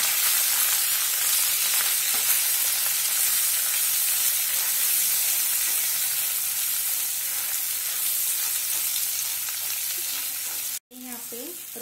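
Elephant foot yam (suran) with red chilli powder and garam masala sizzles steadily in a hot pan while being stirred, a continuous close frying hiss that cuts out abruptly near the end.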